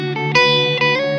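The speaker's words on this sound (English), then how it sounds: "On the NightSky, you can just play any chord, press on infinite, and that's gonna stay consistent." Sustained electric guitar chord held indefinitely by the infinite function of a Strymon NightSky reverb pedal, a loud, bright, shimmering wash with a couple of swelling note changes and no voices.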